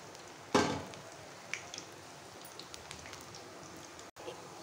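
Onion bhajiya frying in hot oil, a steady soft crackle and sizzle with one louder splash-like burst near the start, then faint scattered pops close by with no talking.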